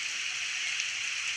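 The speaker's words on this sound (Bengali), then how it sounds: "দেখুন সকাল থেকে বৃষ্টি শুরু হয়ে গেছে" Steady rain falls over a village yard already flooded with standing water, a constant even hiss of drops that stays close and fairly loud throughout, with no talking.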